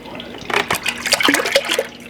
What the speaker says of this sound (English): Oh, splashing everywhere.